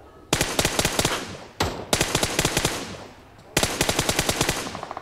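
Close, loud fully automatic fire from an M4 rifle: three sustained bursts of rapid, evenly spaced shots with brief pauses between them and no talk.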